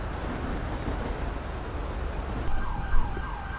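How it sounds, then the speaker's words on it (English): An ambulance siren in the police-patrol game GTA V LSPDFR wails steadily under a loud rumble of engine and road noise, its rising and falling tone growing clearer near the end. "comes the ambulance now"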